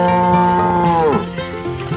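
A heavily pregnant cow lets out one long, loud, close moo that bends downward in pitch near its end, followed by quieter lowing.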